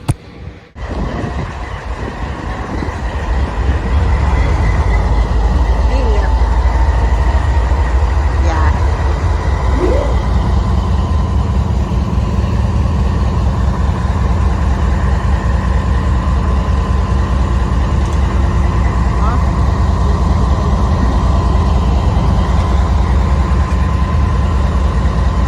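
Steady loud rumble and hum of a passenger train in motion heard from inside the carriage, with a low engine drone and faint rail clatter that continue evenly throughout. No one speaks.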